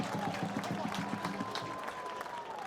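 Pitt Panthers home crowd at an ACC men's college soccer match against Maryland, cheering and clapping steadily across the stands, with a commentator talking over the noise.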